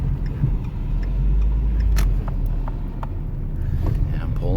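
A 2017 Ford Edge Titanium with an inline-four engine pulls in, a low steady engine rumble and tyre noise heard from inside the cabin, with a few faint clicks over it.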